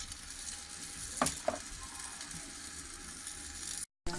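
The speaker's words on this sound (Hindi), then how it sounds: "थोड़ा सा प्याज पक जाए, आस्ता आस्ता इसे ऐसे पकाते रहें।" Onion sizzling and frying in a pan with garlic and ginger paste for a village-style saag, a steady soft sizzle with a couple of sharp stirring clinks.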